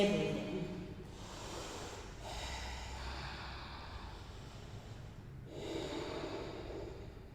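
Steady yoga breathing held in downward dog during an Ashtanga primary series practice, slow audible inhales and exhales with a soft snorting, nasal quality, continuous and close over about seven seconds.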